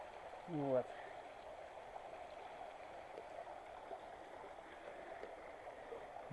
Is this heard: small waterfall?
yes